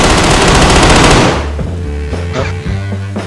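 Machine gun spraying in the video game DayZ: a loud, sustained burst of rapid fire that cuts off after about a second, leaving faint ringing tones.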